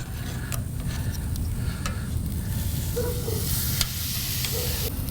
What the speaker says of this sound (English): We're just gonna sear each side of this until we get a little bit of color.